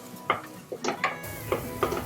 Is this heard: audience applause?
no